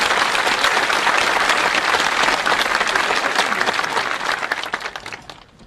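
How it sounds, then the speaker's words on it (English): A graduation ceremony audience gives a loud, full round of applause, with dense clapping that stays strong and then tapers off toward the end. "A round of applause for them, please."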